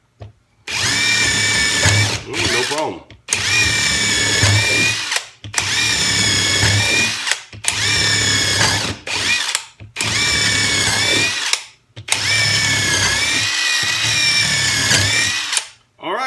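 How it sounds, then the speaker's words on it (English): An 18V cordless drill whines through a 2x4 in repeated bursts of roughly two seconds each, separated by short pauses, loud and close, with a brief spoken remark. "So let's start drilling through this 2x4 and see how it performs."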